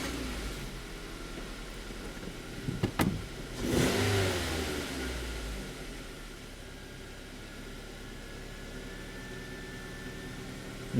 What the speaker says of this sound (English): So now I'm gonna start the engine.